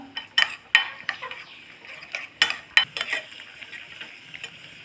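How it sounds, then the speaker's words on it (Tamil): Almonds and cashews roast in ghee in a pan for payasam, with repeated crisp scraping and clinking as a spoon stirs them over a soft background sizzle. "ரெண்டு ஸ்பூன் நெய் ஊற்றி பாதாம் முந்திரி இதை செவரை வறுத்து அதில் கொட்டிடலாம்"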